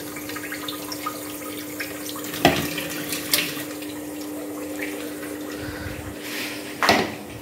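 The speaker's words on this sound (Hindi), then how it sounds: "अब इसमें पानी थोड़ा सा डालेंगे" Water poured in a thin stream into a mint drink mixture with sugar in a grinder jar, a steady close trickle with two brief louder splashes, no talking.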